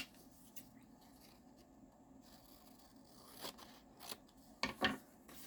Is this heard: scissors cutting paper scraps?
yes